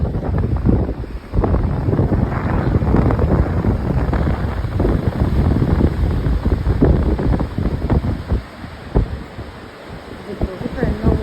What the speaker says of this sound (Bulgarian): Ветровито е много днес